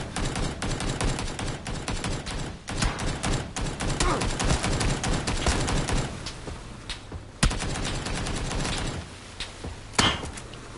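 Video game gunfire, with dense bursts of rapid shots and volleys crackling continuously and a few louder isolated bangs later on, all fairly close and loud.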